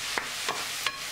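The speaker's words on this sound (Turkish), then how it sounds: "Hepsini güzelce soteliyorum." Vegetables with sliced mushrooms and meat are sautéed in a pan, giving three quick, evenly spaced stirring scrapes over a faint background.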